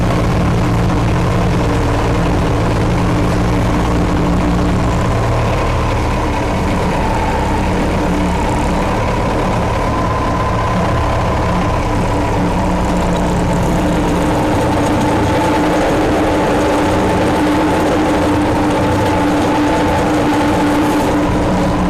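A Bobcat Hytrack 1760 tracked loader's heavy diesel engine drones steadily and loudly throughout, running on cold oil, with a low rumble and shifting pitch as the machine works and moves.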